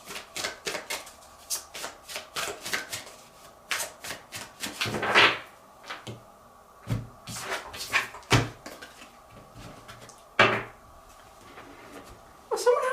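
Oracle cards being shuffled by hand in a series of soft, papery riffles and flutters with brief pauses and a few sharper taps between them, close up and fairly quiet.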